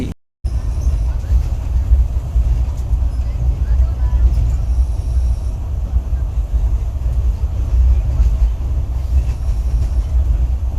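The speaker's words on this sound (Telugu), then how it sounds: "మన ట్రైన్ తిరిగి బయలుదేరింది" Special passenger train No 07219 pulls out of Pakala station at midnight, a loud, steady rumble and rattle of the carriages heard from on board, continuing evenly throughout.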